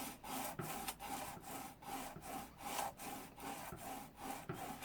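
A steel edge tool is rubbed back and forth on a fine-grit sharpening stone in steady, regular strokes, about two per second, each a close, dry, even scrape with no talk over it.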